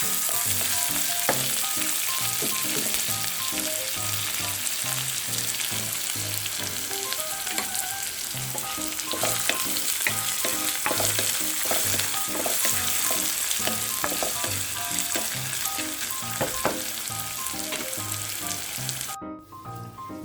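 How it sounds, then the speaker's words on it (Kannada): Two pieces of chilli and curry leaves fry in hot oil for a tempering, giving a loud, steady sizzle with crackles and the scrape of stirring, with no talk over it. "ಮೆಣಸಿನಕಾಯಿ ಎರಡು ತುಂಡು ಆಮೇಲೆ ಕರಿಬೇವು ಹಾಕ್ತಾಯಿದ್ದೀನಿ"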